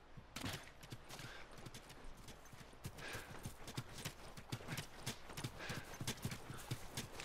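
Horse hooves clip-clop rapidly and steadily in The Last of Us game, a galloping rhythm with dull thuds and faint bursts that sound like distant gunfire.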